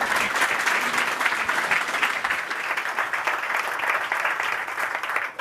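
Sustained audience applause fills a London climate action summit hall after a panel discussion, dense steady clapping from a large crowd held at an even level throughout.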